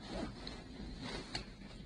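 A small zipper on a backpack pocket slides open or closed, a faint, close, raspy zipping under low background noise.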